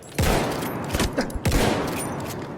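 Battlefield 1 battlefield gunfire: two heavy bursts of rapid shots crack close and loud, with reverberant booming tails and scattered lighter pops between them.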